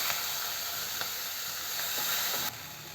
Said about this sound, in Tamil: எல்லாத்தையும் சேர்த்து இந்த மாதிரி நல்லா ஃப்ரை பண்ணிக்கலாம்.